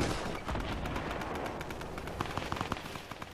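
A minigun in a video game fires a dense, rapid stream of gunshots that rattles steadily and loudly for a few seconds, with sharper individual cracks toward the end.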